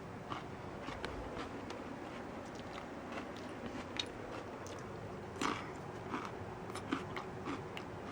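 Someone bites into and chews a cucumber picked fifteen minutes earlier, producing close, wet crunches and a steady chewing rhythm with a few louder crisp bites against a quiet background.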